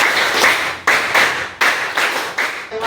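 A middle school class claps in unison, about four sharp, loud bursts of clapping at a steady rhythm, each one ringing briefly before the next.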